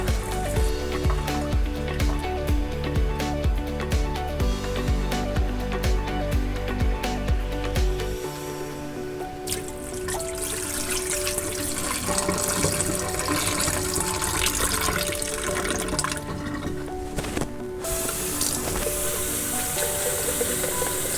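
Water poured off tomato pulp and seeds into a container during seed saving, a steady close splashing and trickling stream running alone without talk.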